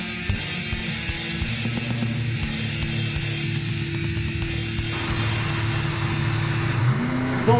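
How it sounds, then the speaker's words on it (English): A NASCAR Fusion Cup car in Project Cars VR, driven at Watkins Glen in thunderstorm conditions, holds a low steady engine hum that rises toward a rev near the end, with rain-like hiss in the background. "I'm using a beautiful Fusion Cup car, the NASCAR, in thunderstorm conditions at Watkins Glen."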